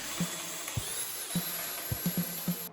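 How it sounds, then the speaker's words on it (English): A small drill hums continuously, drilling dowel holes into a wooden board, while sharp knocks and clunks of wood being handled punctuate it at irregular intervals, close by. "this starts off the exact same ways by drilling holes into your first board."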